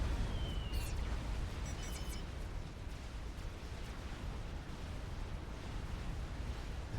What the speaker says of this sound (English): Small explosion.